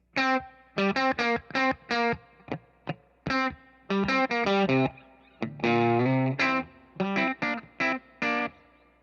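A distorted electric guitar through a 3rd Power Kitchen Sink amp on its Fender blackface-style setting plays choppy, separated chords and short bursts with brief gaps, loud and close, warm amp tone, no talking.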